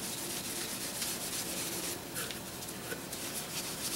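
A stained wooden AK-47 stock is lightly hand-sanded, a soft, steady scratchy rubbing that continues throughout at low volume.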